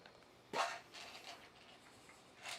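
A dog gives one sharp, fairly loud bark in a quiet indoor room, followed by softer faint noises and a brief rise in sound near the end.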